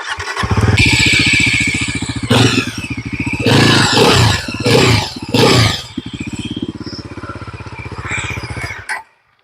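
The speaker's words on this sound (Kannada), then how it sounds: "ಅಂಡ್ ಇದರ ಒಂದು ಎಕ್ಸಾಸ್ಟ್ ನೋಟ್ ಕೇಳೋದಾದ್ರೆ" A 2026 Bajaj Pulsar NS 400Z naked street bike with an underbelly exhaust starts up close by, settles into a throbbing idle, and gives three sharp revs before idling again and shutting off.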